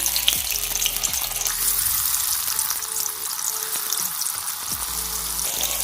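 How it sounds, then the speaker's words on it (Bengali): Potato kebabs fry in hot oil, giving a steady, close sizzle with stirring and scraping sounds at a constant level and no talking. "এবার ভালোভাবে নেড়ে এগুলো ভেজে নিতে হবে। তো আমি ভেজে নিচ্ছি।"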